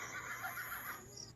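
A short, faint horse whinny used as a sound effect in a ghost-hunting stream, a rising-and-falling harmonic neigh lasting about a second with a breathy tail and no talking over it.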